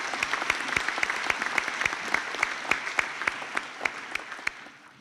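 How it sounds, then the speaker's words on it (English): Applause for a graduating class at a graduation ceremony, a steady crowd clapping with sharp individual claps standing out, fading slightly toward the end. "Please can I give a round of applause to the graduating class."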